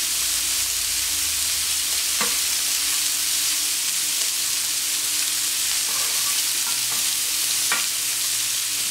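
Duck breast frying in a pan as its fat melts, a steady loud sizzle that runs unbroken throughout, close and alone, with a few faint clicks beneath.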